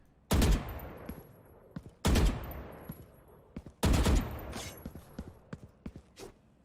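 Gunfire from a weapon in the tactical shooter Valorant, fired in three loud bursts of rapid shots with sharp attacks and short decays, followed by a few fainter scattered shots, with no talk.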